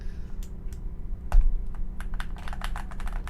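Keystrokes clatter on a freshly assembled keyboard, a loose burst of quick clicks that picks up into denser, faster typing over a low steady hum.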